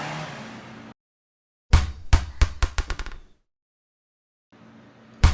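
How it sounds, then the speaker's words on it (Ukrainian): A ball bounces on a hard surface, striking about eight times in quick succession with the thuds growing faster and fainter as it settles, framed by short stretches of background noise. "А так стрибає м'ячик"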